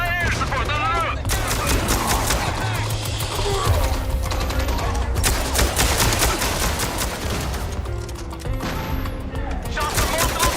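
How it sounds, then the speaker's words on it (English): Heavy gunfire rattles in from multiple directions in a MINDSEYE battle, with sustained overlapping bursts of rapid shots and cracks that stay loud throughout, while voices shout over the din. "Shots from multiple directions!"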